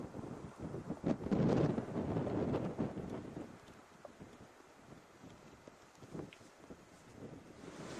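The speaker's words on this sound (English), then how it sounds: "it's very, very windy, extremely gusty" Strong, gusty wind buffets the microphone on an exposed Scottish mountain ridge on Skye, with a loud roaring surge early on that eases into steadier, lower rushing and intermittent gusts.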